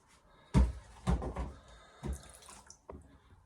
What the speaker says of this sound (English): get rid of that water.